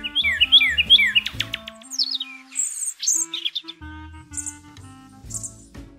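Songbird calls open with a rapid series of bright, repeated chirps and whistles, followed by scattered tweets and squawks at moderate loudness, heard alone without speech.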